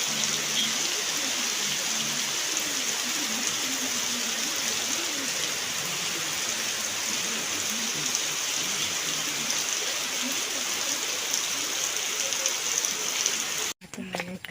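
Rain falls steadily, an even wash of drops hissing on surfaces, with faint murmured voices underneath and a brief knock near the end.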